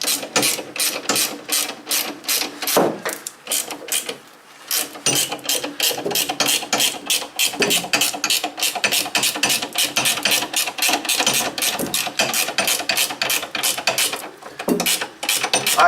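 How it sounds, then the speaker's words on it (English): A 19 mm ratcheting wrench tightens bolts on truck helper springs, giving a long steady run of fast, close metallic clicking in back-and-forth strokes with only brief pauses. "I'm using 19 ratcheting wrench, so this doesn't take very long."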